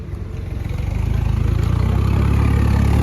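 A tractor engine runs steadily on a river embankment beside the Sutlej at Sasrali, a low rumbling drone that starts fairly loud and grows slightly louder and closer over the few seconds, with no voices.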